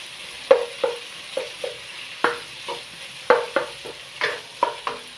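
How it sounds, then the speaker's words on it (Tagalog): Vegetables, garlic, onion, tomatoes and pork stir-fry in a pan, with a dozen or so sharp spatula scrapes and knocks in an uneven rhythm over a steady background sizzle, close and fairly loud, with no talking. "cooking stir fry vegetable, garlic, onion, tomatoes, and pork"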